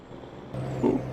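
Truck air brakes in a farming simulator game, a short hiss and release with a low engine rumble, brief and moderately loud.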